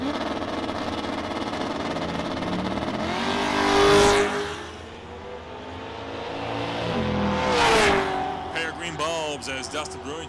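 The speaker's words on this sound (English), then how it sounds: "He's driving that 69 Mach 1 called the Hustler, going against Dustin Brewington from Kennewick, Washington, the 99 Camaro." Diesel drag racers, a 1969 Mach 1 and a 1999 Camaro, roar past at a Canadian diesel shootout in two loud swelling passes with Doppler sweeps, while an announcer talks over the engine noise.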